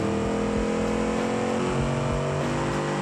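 A drag car launching off its trans brake in BeamNG roars at a loud, sustained high rev, the steady engine drone wavering slightly as the tyres slip, with no voices over it.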